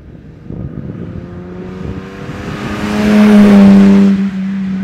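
A 1959 Jaguar SS 100 recreation with a prewar-style body revs its engine through the exhaust, rising from a rough idle into a loud, sustained howl that peaks and then eases slightly, close by.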